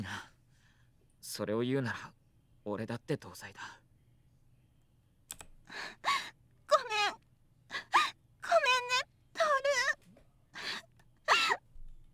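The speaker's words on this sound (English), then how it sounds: "She crumbles to her knees and sobs against my lap" Woman sobbing in Baldr Force, quivering, wavering cries and gasps in separate bursts between quiet pauses, close and fairly soft.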